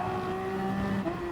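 Toyota hybrid race car in GT Sport during a race at Laguna Seca, a steady sustained engine whine holding fairly constant pitch, moderately loud with no talk.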